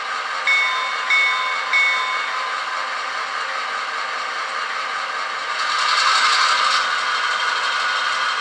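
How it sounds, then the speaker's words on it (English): Model CN locomotive running its startup sound sequence: a few short tonal beeps at first, then a steady electronic hum that swells louder partway through. "you think it's going to be quiet when you start it up, and then that second part of the startup sequence kicks in"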